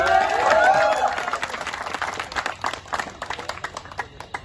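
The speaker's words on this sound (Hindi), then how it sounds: "थोड़ा ताली तो बजाइए।" An audience at a suicide prevention campaign event claps and applauds, a brief voice at the start giving way to a steady patter of many hands that thins toward the end.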